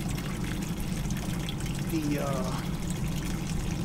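Old, long-overdue antifreeze coolant drains from a vehicle radiator into a container, a steady trickling flow under a low hum, with a brief word spoken partway through.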